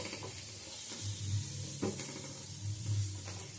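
Onion petals fry lightly in a hot pan for bhindi aloo do pyaza, a soft, steady frying hiss with a few light stirring scrapes and no talking.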